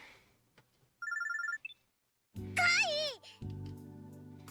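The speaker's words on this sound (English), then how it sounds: "電話受信。" An incoming call in the visual novel game Robotics;Notes Elite rings as a short electronic trill, followed by a warbling chime and a sustained buzzing tone, loud and close.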